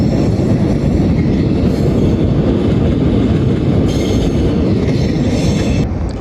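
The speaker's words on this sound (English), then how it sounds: "Just wait for the train going past." A train rumbles past close by, a loud, steady roar of wheels on rails with faint metallic clatter, continuous throughout.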